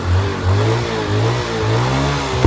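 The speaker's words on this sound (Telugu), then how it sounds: "చాలా అంటే చాలా స్మూత్ అయింది బండి మొత్తం మీరు సౌండ్ వింటే మీకు అర్థమైపోతుంది" A Honda Dream Yuga motorcycle engine running smoothly after a full repair at a village mechanic's shop, a steady close-up mid-pitched hum with slight rhythmic rises and falls in revs and no voices.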